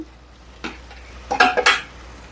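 Tomatoes tipped into a pan of sautéed onions, with a single soft clank followed by a quick cluster of louder metallic scrapes and clatters over a faint, low sizzle.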